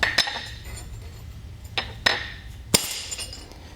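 A steel center punch strikes a horseshoe to mark spots for traction pins, giving three or four sharp metallic clinks spaced irregularly over a quiet background.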